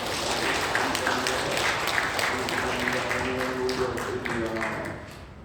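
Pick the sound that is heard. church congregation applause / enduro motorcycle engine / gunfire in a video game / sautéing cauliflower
church congregation applause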